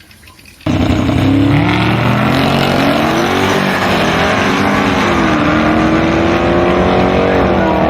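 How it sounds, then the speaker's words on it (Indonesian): Toy race car sound effect: a loud, sustained engine roar with rising and falling revs that starts abruptly and runs steadily to the end. "Mobil balap."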